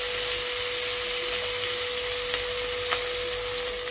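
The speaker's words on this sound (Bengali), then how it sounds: "মাছটা ভাজা হয়ে গিয়েছে, এবার আমি এটাকে নামিয়ে নিচ্ছি।" Rohu fish frying in oil makes a soft, even sizzle throughout, close and continuous, with a steady hum underneath and no one speaking.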